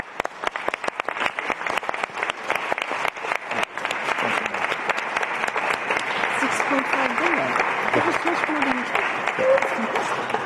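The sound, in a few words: audience applause for Ukrainian heroes at a donor conference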